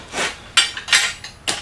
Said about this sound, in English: we're going to grab the hammer